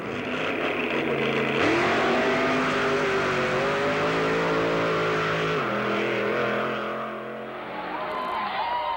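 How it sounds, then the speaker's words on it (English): Funny cars at a drag strip, a 1969 Nova against a Cougar, roar loudly with sustained, shifting engine harmonics across the whole stretch, dipping slightly near the end. "Jungle Jim Lieberman with his 69 Nova, going up against Fast Eddie Sharpman with the Airlift Rattler Cougar funny car"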